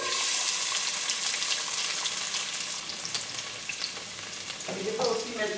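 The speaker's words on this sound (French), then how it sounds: "je commence à mettre ma marmite pour faire revenir tranquillement" Onions frying gently in oil in a cooking pot over a slow wood fire, a steady close sizzle with faint clinks and a brief watery stir near the end, no talking.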